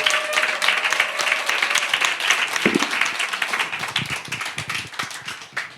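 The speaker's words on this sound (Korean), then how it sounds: "우리 이스라엘 하나님께 다 함께 영광의 박수로" A congregation at a church conference bursts into steady applause, dense clapping from many hands filling the room throughout, fairly loud and without talk.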